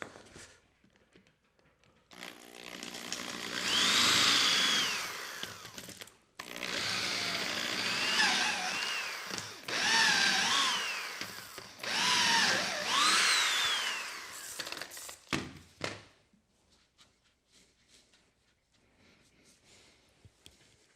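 Power drill boring into wood while building a rustic wooden reindeer, three long whining bursts with rising and falling motor pitch, close and fairly loud, then quieter handling noises.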